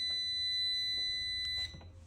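Portable power station powering a boiler and running a 220 V outlet, emitting a continuous high-pitched electronic beep tone, close and steady, over a low hum, with a brief shuffle near the end.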